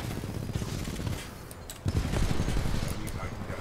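Rapid automatic gunfire from the Titanfall 2 campaign, a dense burst-fire clatter that fades briefly and then resumes more heavily, loud and continuous over game sounds.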